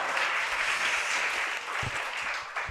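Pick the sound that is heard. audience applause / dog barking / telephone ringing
audience applause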